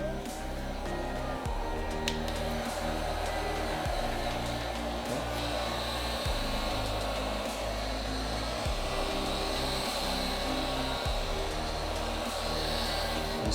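A heat gun blows hot air onto vinyl wrap on a car's rear quarter panel, a steady airy rushing hum running throughout with faint rhythmic thumps underneath.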